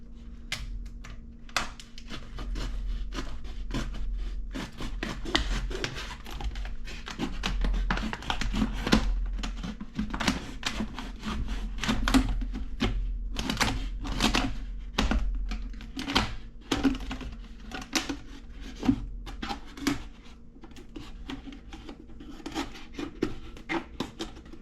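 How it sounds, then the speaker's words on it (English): A sharp knife sawing around a plastic soda bottle just above the label, making irregular close clicks, taps and crinkling scrapes of the thin plastic, with steady rhythmic bursts throughout and no talking. "Then right above this label here, I just cut all the way around."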